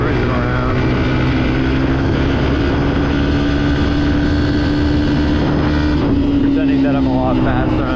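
Dirt bike engine held wide open on back roads, a loud continuous droning roar with steady pitch throughout, slight shift near the end, likely with wind rush.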